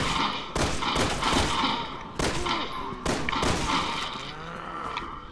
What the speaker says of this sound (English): This guy's got like a machine gun.